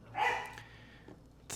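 A puppy gives one sharp, fairly close yelp-like bark, followed by a few fainter yips trailing off in a quiet room.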